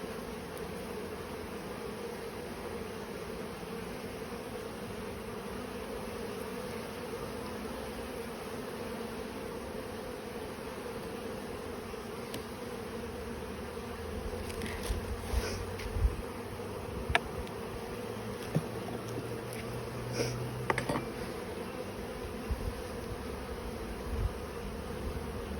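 Honey bees buzz in a steady, continuous drone during a beehive inspection, with a few brief louder flurries of wings passing close partway through.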